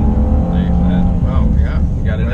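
2017 Honda Ridgeline with 3.5-liter engine and 6-speed transmission accelerating, a loud steady engine drone heard from inside the cabin, with people talking over it.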